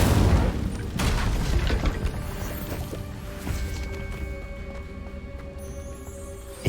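An Incendio fire spell cast in Hogwarts Legacy bursts out as a loud, booming whoosh, then settles into a sustained roaring crackle over steady, ringing game tones, with another sharp burst at the very end.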